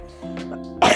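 A single short cough bursts out near the end, after a brief stretch of low background hum and a faint throat sound.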